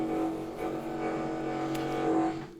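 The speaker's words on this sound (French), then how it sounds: "Je suis désolée pour le bruit des travaux." A continuous engine-like mechanical rumble from construction work, with a steady drone and slight swells, heard alone and fairly loud.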